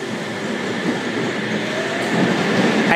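A train rumbles steadily alongside an underground platform at Sydney's Martin Place station, a loud continuous roar of wheels and motors echoing in an enclosed space.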